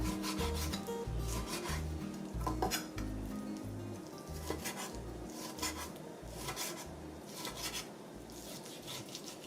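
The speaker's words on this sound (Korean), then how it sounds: "고기를 썰어 보겠습니다. 이 고기는 양지예요." A knife works through beef brisket on a wooden board, giving repeated rubbing, scraping strokes in a steady rhythm with light clinks of utensils, close and fairly quiet with no voices.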